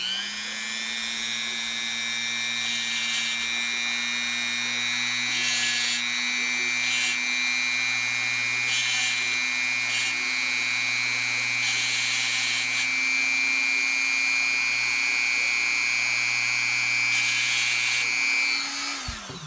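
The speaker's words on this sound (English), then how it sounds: "Here's our Dremel. I'm going to just make probably 4 very shallow flat spots." A Dremel rotary tool grinds shallow flat spots on an axle gear, its high steady whine running continuously with bursts of harsher grinding as the bit touches the metal, close and loud throughout.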